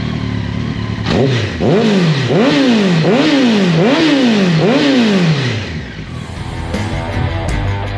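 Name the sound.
Honda X-11 motorcycle engine running with new exhaust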